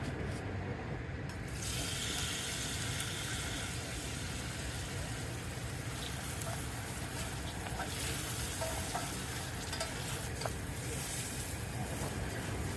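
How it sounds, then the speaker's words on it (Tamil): Onion, tomato, green chilli, ginger-garlic paste and curry leaves sautéing in a pan with cinnamon, a steady close sizzle throughout with faint stirring scrapes. "பட்டை மட்டும் போட்டு தாளிச்சிட்டு வெங்காயம், தக்காளி, பச்சை மிளகாய், இஞ்சி பூண்டு பேஸ்ட், கருவேப்பிலை எல்லாத்தையும் அதோடு சேர்த்து கொஞ்சம் வதக்கணும்"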